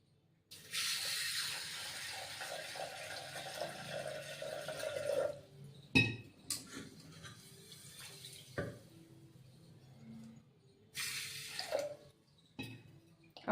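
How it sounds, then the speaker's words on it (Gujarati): Water is poured into a pressure cooker holding washed mung beans, a continuous splashing flow lasting several seconds, followed by a few clanks and brief running-water bursts, with no talking. "અને પાણી એડ કરી દઈશું."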